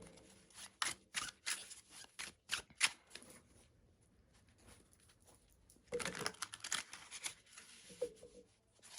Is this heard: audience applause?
no